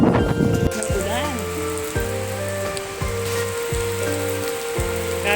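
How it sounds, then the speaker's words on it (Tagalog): Heavy rain pours on a windy morning, a steady hiss running underneath a loud repeating stepped melody that dominates the foreground. "Grabing lakas ng ulan. Ang lakas ng ulan. Super lakas."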